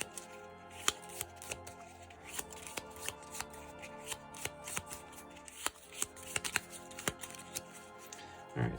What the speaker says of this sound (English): so unfortunately we are going to have to shuffle our deck again